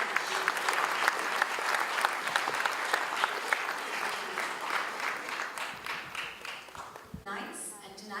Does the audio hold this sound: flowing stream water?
no